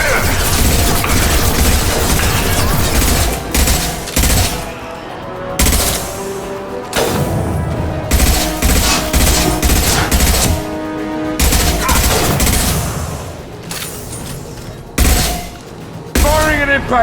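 Sustained gunfire in the Mass Effect 2 video game, impact shots cracking in loud, dense bursts and rapid volleys, broken by short pauses and booming hits.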